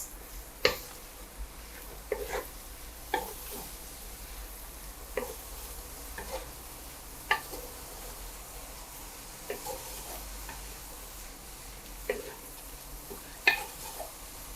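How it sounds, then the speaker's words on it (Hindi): Spring onion greens stirred and frying in a pan for egg fried rice, with a steady low sizzle broken by sharp, intermittent clicks and scrapes of a utensil against the pan roughly every second or two. "इसका सारा ग्रीन वाला हिस्सा सारा डाल देंगे और इसको करेंगे अच्छे से मिक्स।"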